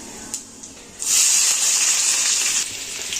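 Onion dropped into hot oil with whole spices and cumin, a few small clicks then a sudden loud hiss and sizzle that holds and eases slightly near the end.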